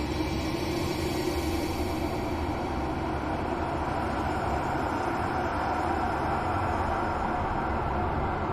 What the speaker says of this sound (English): Ghost train.